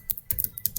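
Rapid keystrokes clatter on a computer keyboard while a command is entered at a command prompt, about seven crisp taps in under a second, close and clear with no talk.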